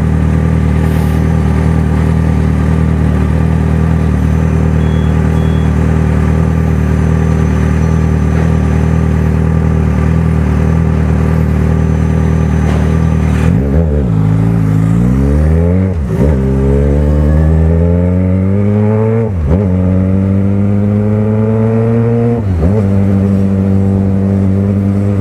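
Yamaha XJ6 motorcycle engine idling steadily in traffic while waiting at a signal, then a few short rising revs with gear changes as it pulls away, loud and close throughout.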